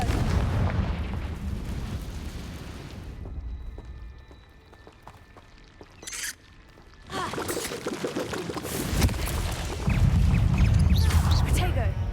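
Fire-spell explosions blast during a Hogwarts Legacy battle, with loud roaring bursts, a quieter lull in the middle and a heavy rumbling boom near the end, as a voice shouts in the game.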